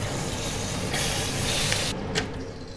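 Beef browning in a hot pan gives a steady, loud sizzling hiss that runs unbroken for a couple of seconds, then briefly drops and flares again.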